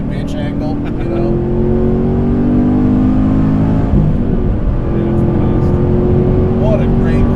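A 2015 Chevrolet Camaro Z28 engine pulls hard under acceleration, a loud, sustained droning roar with rising and shifting tones over the whole stretch.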